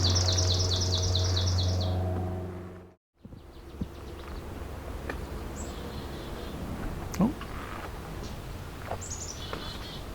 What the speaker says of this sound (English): Yellowthroat is making some sounds at us. A little bit of scolding noises.